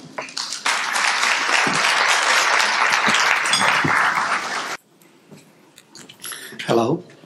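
Audience applause welcoming Dr. John Yu to speak at a lecture on dental filling toxicity; a dense, loud burst of clapping lasting several seconds that cuts off abruptly, followed by quiet room noise and a brief voice.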